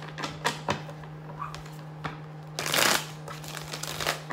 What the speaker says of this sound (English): One more shuffle, please, for Capricorn.